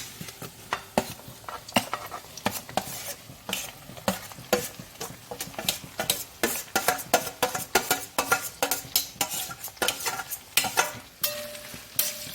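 Three onions frying in oil as the base for a chicken curry, with a low sizzle under rapid, rhythmic scraping and clinking of a spoon stirring the pan, close and steady throughout, with no talking.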